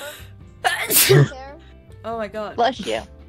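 A person sneezes loudly in one sharp burst during casual talk in a Goose Goose Duck game session, and voices carry on before and after it.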